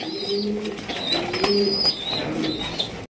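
A Rajgolla pigeon pair cooing close by, repeated soft throaty coos in a rolling rhythm with a faint flutter of movement between calls, cut off abruptly at the end.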